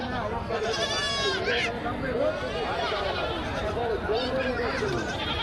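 Goats bleat repeatedly amid the busy chatter of a crowded livestock market, with people talking close by.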